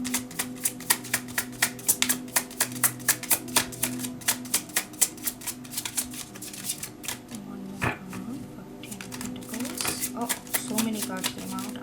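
Tarot cards are shuffled in a quick, steady run of sharp riffling flicks close by, pausing briefly with a soft thump before the rapid shuffling resumes, a faint hum underneath.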